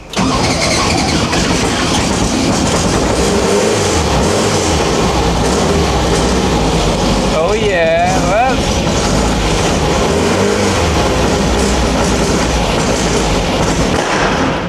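A Volkswagen Baja Buggy 2.0 engine runs loudly and roughly throughout, misfiring with an uneven, stumbling chug, while a voice talks briefly over it partway through.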